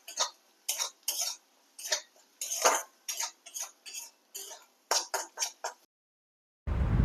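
Roasted spice paste for egg korma is stirred in a pan, producing a close, rhythmic series of scraping strokes, about a dozen in quick succession, then a short silence.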